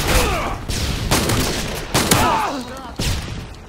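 Video game gunfire: several loud bursts of automatic fire ring out close by in quick succession, with brief gaps between volleys.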